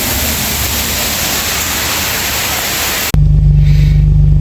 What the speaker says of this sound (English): Starting to rain pretty good now.